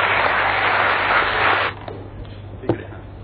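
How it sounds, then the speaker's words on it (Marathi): An audience at a graduates' speaking event applauds loudly with dense, steady clapping for about a second and a half, then it cuts off abruptly, leaving faint room noise and a single knock. "त्याबद्दल त्याच्यासाठी एकदा जोरदार टाळ्या होते"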